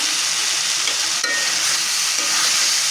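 Food sizzles steadily in a hot pan in a home kitchen while being stirred, a loud, close, continuous frying hiss with faint scraping.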